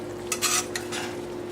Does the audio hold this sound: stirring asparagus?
yes